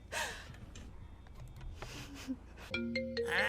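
A phone rings inside the GTA RP video game, a set of steady electronic tones that come in near the end. Before it there are quiet gasps and breaths.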